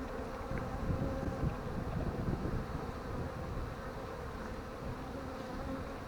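Honey bees hum in a dense, steady buzz throughout during an inspection of strong colonies at the hive, with faint wind in the background.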